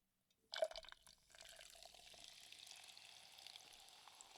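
A quiet liquid pour begins with a soft splash, then runs as a faint, steady trickle close by, with no talking.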